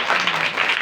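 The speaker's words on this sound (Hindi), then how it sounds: "जोरदार तालियां।" A short, loud wash of clapping from a congregation at a Christian worship gathering in Pakistan, lasting under a second with a faint tonal hum underneath.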